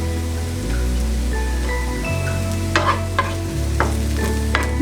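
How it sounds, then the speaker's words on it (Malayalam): Green chili and curry leaves being sautéed in a pan, a steady sizzle with a low hum beneath and a few scraping stirs late on, with no talking. "കറിവേപ്പിലയും കൂടെ ചേർത്തിട്ട് നമുക്കൊന്ന് വഴറ്റി കൊടുക്കാം"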